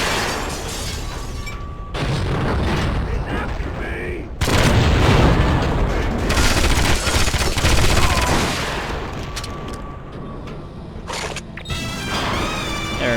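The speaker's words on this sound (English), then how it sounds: "Dude, they're throwing grenades at me already?" Grenade blasts and bursts of gunfire in the shooter James Bond 007: Agent Under Fire, loud and dense with booming impacts and rapid shots layered over game music and effects.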